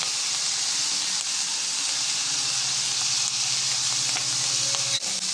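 Yardlong beans fry in a pan for beef fried rice with a continuous, loud sizzle and hiss, plus occasional soft stirring knocks near the end.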